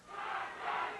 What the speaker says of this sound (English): And the crowd, it's another tremendous crowd here at the Junction in San Antonio, Texas tonight